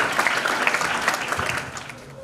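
An audience at an award ceremony applauds, a dense, continuous wash of clapping from many hands that thins slightly toward the end, heard fairly close.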